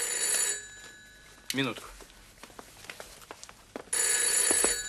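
An old telephone bell rings loudly in bursts at the start and again at the end, with a voice and soft household movement in the quiet gap between, in a 1976 Soviet film scene.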